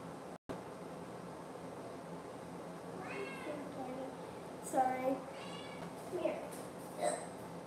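A pet cat meows several times close by, with short drawn-out calls spread over a few seconds, against a faint hiss and a person speaking softly.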